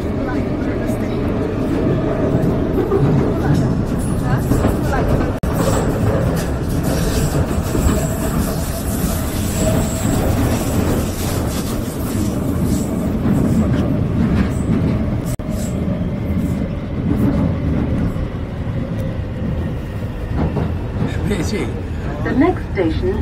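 A London Underground train rumbles steadily close by, with wheels clattering and occasional metallic squeals over a continuous roar.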